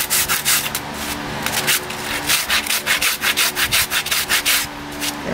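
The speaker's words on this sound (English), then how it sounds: "So you can rasp these. So I'm just kind of smoothing that out a little bit." A rasp smooths the cast on a foundered horse's hoof in rapid, rhythmic back-and-forth strokes, each a loud, close, gritty scrape repeating steadily with no talk.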